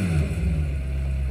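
Deep, steady engine drone of a McLaren Senna captured by an onboard microphone, a low rumbling tone holding at a near-constant pitch for a brief moment, close and alone with no voices.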